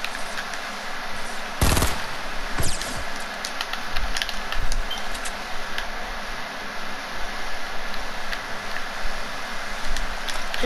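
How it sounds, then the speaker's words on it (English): Rapid bursts of gunfire in a Fortnite game, loud and close, with one sharp blast early on followed by scattered shots over a steady background noise. "Somebody's shooting at me."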